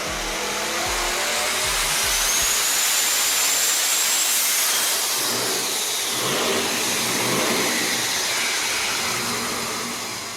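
Devel Sixteen hypercar with a 12.3-liter quad-turbo V16 built from two V8s, rated at 5,007 horsepower: a loud, continuous roar that swells and shifts in pitch as it revs, close up and with no voices.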